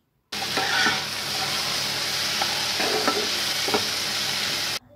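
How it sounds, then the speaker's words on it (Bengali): Potato, peas and tomato sautéing in a pan, a steady close sizzle of frying with a few spoon scrapes and clicks of stirring, cutting in and stopping abruptly. "আর এখানটায় আলু মটর টমেটো ভালো করে কষিয়ে নেওয়া হচ্ছে।"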